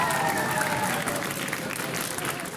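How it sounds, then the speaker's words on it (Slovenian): Moderate, fairly distant applause from a studio audience for young quiz contestants from two primary schools, steady throughout with a faint tone early on. "ki si zasluži en aplavz, bravo"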